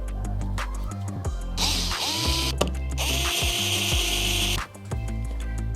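Small power screwdriver backing screws out of a Jasminer X4Q crypto miner hashboard, two sustained high whirring bursts with ratcheting clicks between them, close and steady, with no voices.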